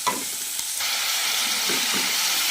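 A frying tempering of mustard, asafoetida, onion, garlic and curry leaves, with tomato going in, gives a loud, steady sizzle. Brief stirring scrapes sound over it, and no one speaks.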